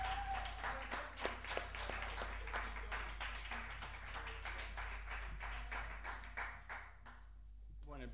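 A small audience claps at a live music show, a dense run of hand claps that is loud at first and thins and fades toward the end, with a voice speaking over it.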